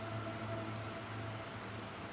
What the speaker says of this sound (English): The raindrops are a bit slow